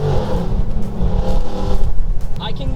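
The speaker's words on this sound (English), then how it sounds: "The exhaust notes on this thing are ridiculous." A 900 hp carbon-fibre Revenge GT Mustang supercar blares its exhaust while accelerating, producing a loud, close, rising engine roar with hints of tyre noise. People talk throughout.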